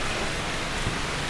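Steady, dense rain hiss fills the scene in a video game, a continuous broadband wash with no breaks and no one talking.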